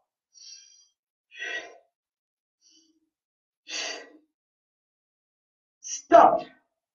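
Breaths in and out during a Pilates workout, four separated airy breaths spaced over several seconds, with the last one louder and closer, in an otherwise quiet room.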